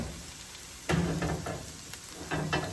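Steady oil sizzle from latkes frying, with a few sharper crackling bursts and spits, close and fairly loud, no voices.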